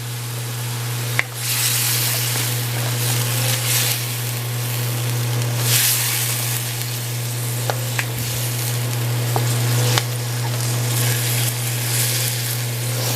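Pork stir fry with ginger paste sizzles steadily in a hot pan, a continuous broadband hiss with an underlying hum and a few small pops and clicks, close and constant throughout.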